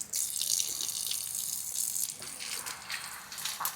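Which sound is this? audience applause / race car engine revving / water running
water running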